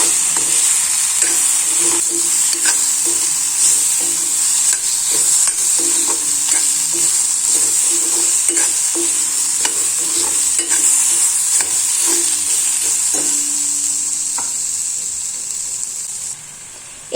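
Boiled taro pieces tossed with salt in a frying pan, a steady loud sizzle and hiss running throughout with repeated scraping stir strokes in an uneven rhythm, close up and alone without talk.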